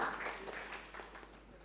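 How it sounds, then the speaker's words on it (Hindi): Members of the media at an Indian Idol 12 interview break into brief scattered applause, a short burst of hand claps that fades quickly, with some talk mixed in. "अरे मीडिया के भाइयों ताली बजा दो ना"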